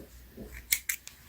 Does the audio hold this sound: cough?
no